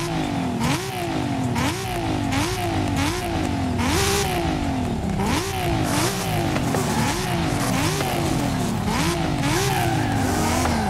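A Lexus SC300 drift car in the video game Forza Horizon 5 revs loudly and repeatedly, its pitch climbing and dropping in quick rhythmic cycles over a steady exhaust roar, with no voices.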